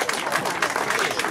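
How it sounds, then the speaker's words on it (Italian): Audience applause at an award ceremony: a brief, dense wash of clapping from a crowd, steady and fairly loud throughout. "lo salutiamo con un grande applauso anche Emilio"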